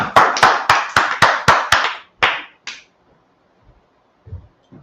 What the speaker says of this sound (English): Okay, clap it up.